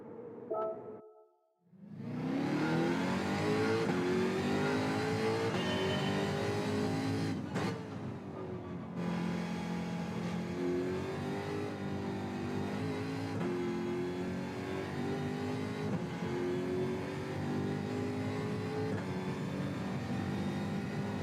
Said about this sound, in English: to rev the Jaguar to 3/4